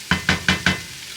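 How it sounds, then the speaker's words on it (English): Potatoes frying in a pan for a potato egg bake, with four quick, evenly spaced scraping strokes over a soft sizzle, close by. "Kind of just let that fry there,"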